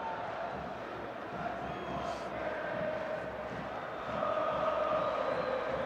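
Stadium crowd at an Algeria versus Uganda football match producing a broad, steady roar that swells slightly toward the end, heard from a distance as a continuous wall of noise.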